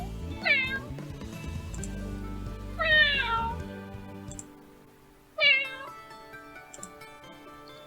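Two people imitate cats, voices meowing and caterwauling in three long, rising-then-falling wails during Escape From The Princess, loud and close, with a low rumbling backdrop under the first two cries.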